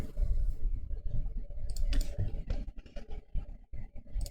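Rapid computer keyboard and mouse clicks sound close and crisp while PDF files are selected for merging, an irregular run of sharp taps with no talking over them.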